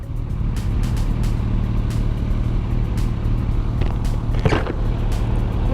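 A 2007 Ninja 650 motorcycle engine drones steadily close by, with a low throbbing note and a sharper burst of revving near the end, and no speech.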